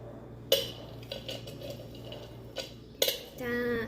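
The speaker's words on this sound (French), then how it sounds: "les noix et le chocolat haché. Et mélangez-les." Walnuts and chopped chocolate are mixed in a bowl for a chocolate cake, with a few sharp clinks and scrapes of a spoon against the bowl over a quiet, faintly humming room.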